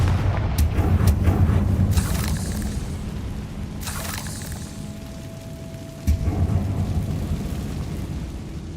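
A Confringo blast spell goes off in the video game Hogwarts Legacy as a loud booming explosion, followed by a second heavy impact a few seconds later over a continuous rumbling game background.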